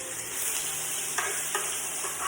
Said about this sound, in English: Now we're gonna brown our 1 pound of cubed chicken.